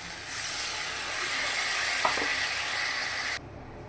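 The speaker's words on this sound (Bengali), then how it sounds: "এবার আমি জলটা দিয়ে দেবো।" Water poured into frying spice paste for a katla fish kalia curry sets off a loud, steady hiss and sizzle up close, which drops away sharply near the end.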